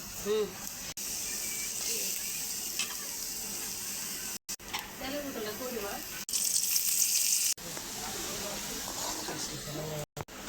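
Greens cooking in a pan get a spice tempering in hot oil, giving a bright hissing sizzle in bursts with abrupt stops and restarts, while a person talks over the sizzle.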